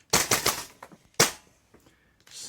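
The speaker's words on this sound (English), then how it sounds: "Hopefully you saw all of that gas expelling out of the side." A Marui MWS gas blowback airsoft rifle fires in quick sharp bursts of loud clattering reports from an overfilled PMag gas magazine, followed by a brief, faint hiss of gas venting.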